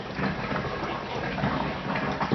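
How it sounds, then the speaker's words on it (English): Water runs steadily into the plumbing of an old RV, a continuous close, fairly loud rushing and gushing with no pauses and no voices. "I've got water coming in."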